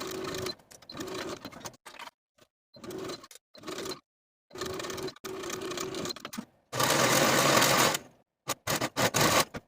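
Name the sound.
serger finishing silk dress shoulder seams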